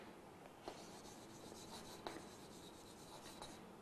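Chalk or a marker scratches across a board during a class 8 science lesson, faint rubbing and scraping strokes with a few sharper taps, quiet and without talk.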